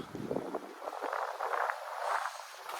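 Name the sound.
wind outdoors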